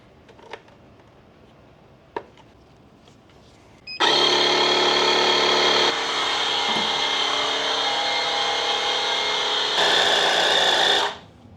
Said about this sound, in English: The 997 here has a flat tire, but luckily you got your portable air compressor.